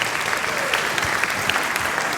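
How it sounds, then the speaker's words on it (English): Concert audience applauding for a patriotic performance, a steady dense wash of clapping from many hands held at an even level for a couple of seconds. "Everybody give this man a round of applause"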